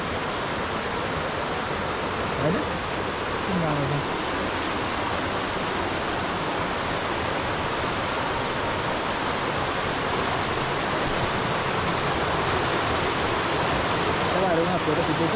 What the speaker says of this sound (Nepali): कस्तो दामी नेपाल जस्तो खोला